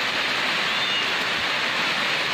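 Rain falls on the damaged tin roof of a kitchen, water dripping through, a steady dense hiss without a break, close and even throughout.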